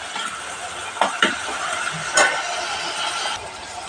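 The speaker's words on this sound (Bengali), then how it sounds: "এটা ভালো করে কষাবো আমি" Spices for papaya curry fry in hot oil with a constant sizzle, broken by a few sharp scrapes and knocks of a spatula stirring in the pan; no one speaks.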